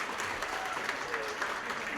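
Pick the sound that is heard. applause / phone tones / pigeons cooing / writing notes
applause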